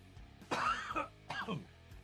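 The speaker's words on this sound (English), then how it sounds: "This cough, man." A person coughs twice up close, harsh, throaty bursts separated by a short pause.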